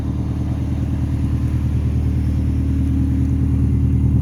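An overhauled car with a newly fitted exhaust idles steadily, giving a continuous deep, throbbing rumble with a regular low pulse, loud and close, with no talking.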